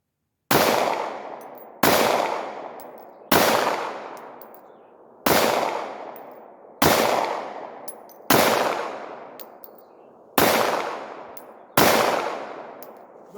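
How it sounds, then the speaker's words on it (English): Eight loud Glock pistol shots fired at a steel target 65 yards away outdoors, each a sharp crack with a long decaying echo, spaced about one and a half seconds apart, no talking. "I'm shooting at that white target over there."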